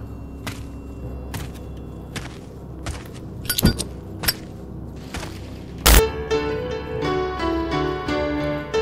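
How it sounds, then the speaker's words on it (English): In a VR video game, tables and chairs drop from a saloon ceiling with a string of hollow wooden thuds and clattering crashes, one heavy impact near the end, followed by game music. "That was the song of the falling tables and chairs from the ceiling."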